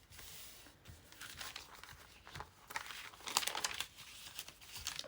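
Paper being folded and creased for a junk journal, producing soft, close crinkling and rustling that comes in uneven bursts, with no voices.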